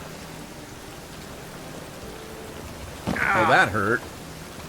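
Steady rainfall in The Witcher 3 video game, a soft continuous patter and hiss, with someone briefly speaking over it near the end.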